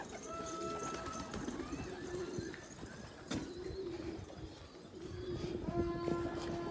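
Pigeons cooing softly and repeatedly in a loft, under faint background talk and scattered knocks.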